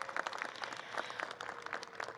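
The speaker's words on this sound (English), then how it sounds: "Can we give them a round of applause?" An audience at a new student convocation claps steadily, many hands producing a dense crackle of applause that holds at an even level throughout.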